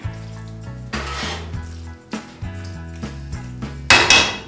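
Pasta with mushrooms, roasted cauliflower and grated Parmesan stirred in a pot, giving a string of close, irregular wooden knocks and scrapes against the pot with a louder clatter at the end over a steady low hum.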